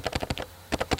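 Keystrokes on a computer keyboard while entering a JavaScript variable name, about eight distinct clicks in two quick bursts separated by a brief pause, close and moderately loud with no voices.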